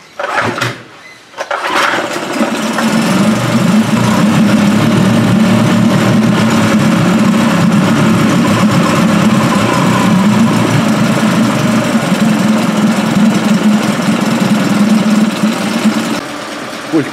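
Tohatsu MFS 9.8 B outboard motor starts after a short pull, then runs steadily at a loud, close, buzzing idle for the rest of the stretch, with faint talk beneath it.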